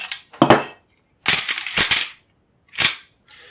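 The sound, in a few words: handling Grand Power pistol to check it is empty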